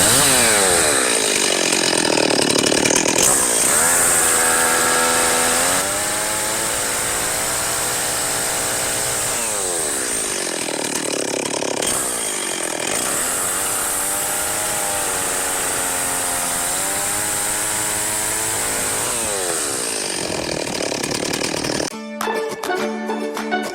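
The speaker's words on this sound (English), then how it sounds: "we're going to do some finished carpentry with the steel chainsaw and get these ends cut" A chainsaw cuts the ends of barn rafters, its loud engine droning steadily with pitch rising and falling as it bites through the wood over several cuts, close and continuous.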